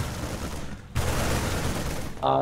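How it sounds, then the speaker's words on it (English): Rapid continuous gunfire from stimmed Marines in a StarCraft 2 tournament match, a dense crackling fusillade that briefly dips before resuming at full intensity, with a short electronic game sound at the end. "Marine with Stim coming in, taking everything down"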